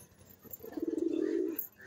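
A single drawn-out pigeon coo, a soft, moderately loud murmur lasting about a second, with no other sound around it.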